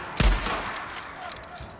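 A single sharp gunshot cracks out loud and close in the zombie-survival game Days Gone, a booming blast with a short rumbling tail fading into quiet ambience.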